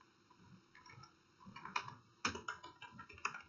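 Typing on a computer keyboard to enter a subject in an e-office form, a quick run of light clicky keystrokes with a few louder taps, close and alone.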